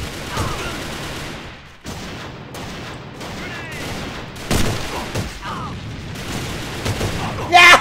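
Gunfire from an AK-47 Gold Snake rifle in the online shooter AVA, with scattered sharp shots and short bursts alongside distant firing, while a player talks throughout.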